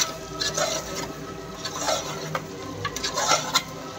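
Goat meat curry with chili powder being stirred in a pot, a soft squelching mix broken by light scraping and spoon taps on the metal at irregular intervals, close and fairly quiet.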